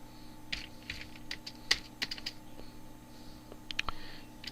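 A computer keyboard is typed on up close as Oracle code is entered, with irregular bursts of key clicks and a few sharper taps over a quiet room hum.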